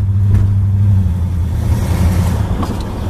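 A 1970 Pontiac Catalina convertible with single exhaust idles nearby, a steady low engine rumble with a slight rev, no voices.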